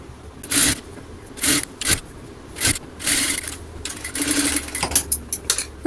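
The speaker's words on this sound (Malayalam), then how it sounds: "അപ്പോൾ ഇത് നമ്മൾ കറക്റ്റായിട്ടൊരു ഡബിൾ സ്റ്റിച്ച് കൊടുത്തെടുക്കുന്നുണ്ട് കേട്ടോ ഈ ഒരു നെക്ക്" A sewing machine double-stitching the neckline lining of a silk skirt runs in short bursts, whirring close and fairly loud between brief pauses, with fabric rubbing and no talking.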